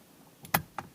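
An airbag module on a Subaru snapping into place, two or three sharp plastic clicks close together, quiet and close with no talk.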